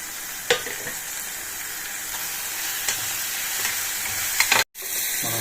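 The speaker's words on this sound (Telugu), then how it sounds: "ఇప్పుడు మనం ఎంత మెంతాకు వేస్తున్నాం" Fenugreek leaves stirred into a frying tindora (ivy gourd) curry in a pan, with steady moderate sizzling and a few sharp scraping clicks from stirring, a brief dropout near the end, no voices.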